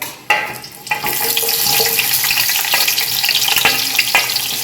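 Onion and green chillies hit hot oil with a sudden loud sizzle that continues steadily, broken by a few sharp spatula scrapes and stirring clatters, close up and without talk.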